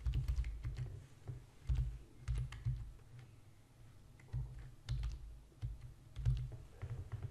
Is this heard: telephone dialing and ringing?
no